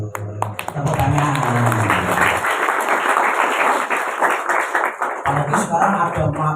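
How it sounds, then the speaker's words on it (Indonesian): A Ramadan religious study gathering breaks into audience clapping, a few seconds of loud, rapid, scattered hand claps with a voice speaking before and after. "Tepuk tangan."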